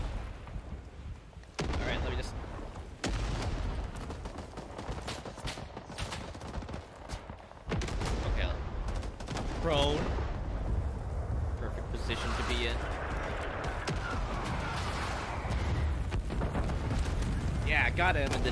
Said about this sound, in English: Okay, someone's shooting at us.